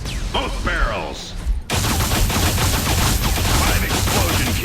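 Double-barrel shotgun blasts in the video game Alien Rage, loud booming shots over dense game noise and rapid gunfire, with a voice speaking briefly before the firing starts.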